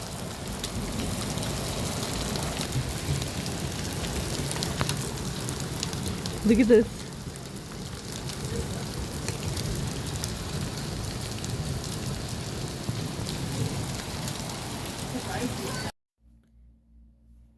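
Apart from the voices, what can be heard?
hail and rain falling during a storm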